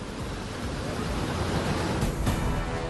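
Rushing floodwater pouring through the breached Madkaul embankment on the Bagmati river in Sitamarhi, a loud, steady roar of turbulent water with brief gusty swells and no talking.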